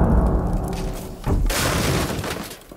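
Frag grenade exploding in a first-person shooter, a single deep boom with a shattering, debris-filled tail that fades over a couple of seconds.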